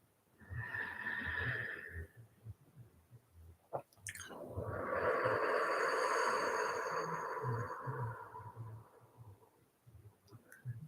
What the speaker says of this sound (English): Do a couple rounds of breath like this, inhaling and exhaling.